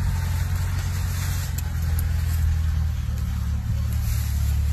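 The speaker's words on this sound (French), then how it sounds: "Vous allez entendre derrière le tracteur" A farm tractor rumbles steadily close by, its deep low engine drone loud and continuous throughout, with no voices over it.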